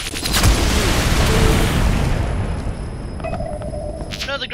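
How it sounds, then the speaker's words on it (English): Grenade blasts in the online shooter Ghost Recon Online: a loud, sustained rumbling explosion that fills the opening seconds and slowly fades, followed by faint electronic game tones near the end. "Grenades."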